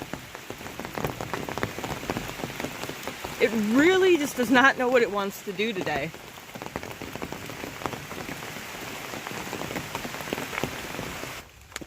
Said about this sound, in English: Now it's sunny and it's raining.